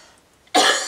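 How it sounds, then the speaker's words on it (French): After a quiet moment, a single sharp cough bursts out close to the microphone, loud and breathy. "j'ai envie de tousser"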